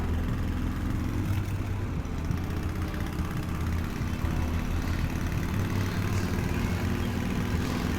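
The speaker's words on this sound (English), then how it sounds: "Here where it almost sounds like a car or like a motorcycle." A steady low engine rumble idles continuously, droning like a car or motorcycle, with no voices over it, in the video game The Path.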